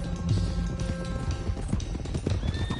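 Hooves of several horses clip-clop at a steady gallop in Red Dead Redemption 2 while a wagon team is driven toward Clemens Cove, with a horse whinnying near the end over constant rumbling game ambience.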